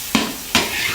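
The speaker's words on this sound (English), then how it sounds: "And add back the eggs to the wok. Give it a good stir and flip." Eggs frying in a wok for moo shu pork, with two quick scraping stirs cutting through a soft, close sizzle.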